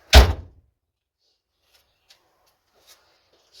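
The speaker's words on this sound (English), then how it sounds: "Got these doors shut back here." One solid thunk as the rear doors of an Astro van slam shut, loud and close, then near silence with a few faint small rattles.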